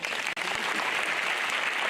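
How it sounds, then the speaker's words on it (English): Audience members clap together at a secondary school inter-house debate competition, a steady, close round of applause with one brief break near the start. "A round of applause for God."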